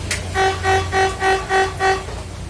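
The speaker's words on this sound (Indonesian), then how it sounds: "itu 270 lagi betulin klakson." A vehicle horn under repair sounds six short, evenly spaced toots in a steady rhythm, loud and close over a low background hum.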